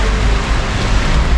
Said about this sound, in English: raining cats and dogs, it's pouring